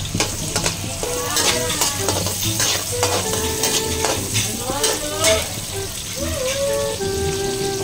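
Ginger frying in a pan for a cassava-leaf and sardine dish, crackling and popping loudly while a utensil scrapes and stirs, with some tonal clatter and background sounds throughout.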